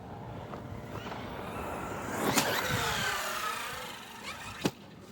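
An 8S RC basher car, a Team Corally Asuga XLR or Arrma Outcast, launches off at speed outdoors: a rising whoosh of motor and tyres swells midway, then a sharp brief whine-and-crack near the end, fairly distant, with no talking.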